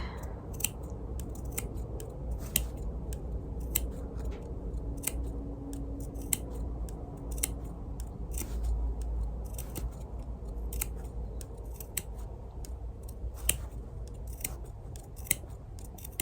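Sharp scissors make repeated small snips into the fabric seam allowance of a rag quilt cushion, crisp clicks at irregular intervals over a quiet, steady background, close by with no talking.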